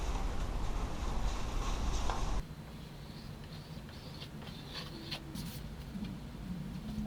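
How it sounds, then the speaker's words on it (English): Excess joint compound scraped off freshly bedded drywall tape with a knife: a steady, dense rasping scrape, close and fairly quiet, shifting to lighter intermittent scraping strokes partway through, with no voices. "Then we can scrape away the excess compound and save that."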